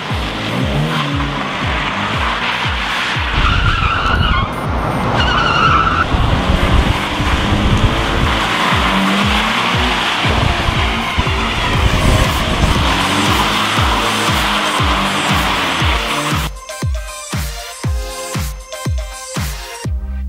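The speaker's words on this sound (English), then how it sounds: "Drifting with steel wool," A car drifts with a pole fixed to its back carrying burning steel wool. Engine roar and long tire squeals run loud and continuous, giving way to choppy bursts near the end.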